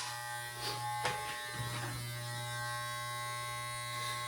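Electric hair clippers buzz steadily through a home haircut, giving a constant close-up hum with small shifts in tone and a few soft bumps as the blades move through the hair.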